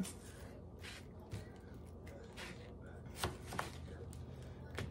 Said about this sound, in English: so I'm going to cut it in strips like, okay? Just basically like that.